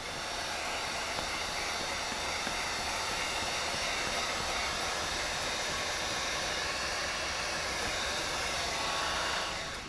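A heat gun blows a continuous, loud, even hiss throughout while car window tint on a 2019 Subaru WRX is sealed along the top edge, with no talking.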